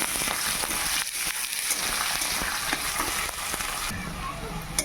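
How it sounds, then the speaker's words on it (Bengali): Onions frying in oil left over from frying potatoes, a busy crackling sizzle with intermittent stirring clicks, steady and close, briefly brightening near the end. "এর মধ্যে পেঁয়াজগুলোকে ভেজে নেব।"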